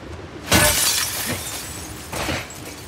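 In The Last of Us Part II, glass shatters loudly and close, a sharp crash with tinkling debris, then a second smaller break of glass a moment later, with no voices.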